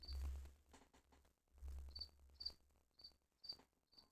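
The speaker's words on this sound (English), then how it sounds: "There's crickets in here." Crickets chirp in short, evenly spaced high trills, fairly quiet and steady, with no voices present.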